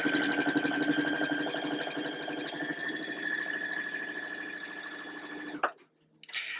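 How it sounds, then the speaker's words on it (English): A sewing machine runs steadily, stitching a quarter-inch seam on a quilt heart block, a close, even mechanical whir that stops abruptly near the end. "we're going to sew with a 1/4 inch all the way down"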